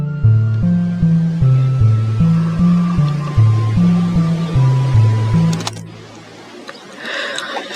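A hip-hop beat intro built in FL Studio layers a reverb-soaked synth flute over a synth part, with a low, pulsing bass pattern repeating in steady steps before the notes thin out and fade near the end.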